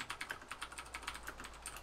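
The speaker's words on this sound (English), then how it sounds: "Who's typing?" Rapid, continuous tapping of a computer keyboard, fairly faint and steady in the background during a Minecraft session, with no speech over it.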